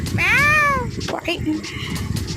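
A cat gives one drawn-out, rising-and-falling meow up close, followed by quieter rustling and faint background voices.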